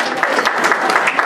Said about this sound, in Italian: Intanto un applauso di benvenuto a Titti Federico,